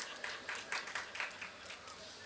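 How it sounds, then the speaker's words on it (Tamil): Applause from an audience at a Tamil motivational speech rises in short bursts of clapping, moderately close and fairly steady across a couple of seconds. "புரிந்தவர்கள் கைத்தட்டுகிறார்கள்"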